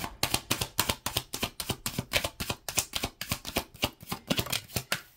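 Tarot cards are shuffled for a nine-card spread, a brisk, close run of rhythmic riffling flicks repeating steadily without talk.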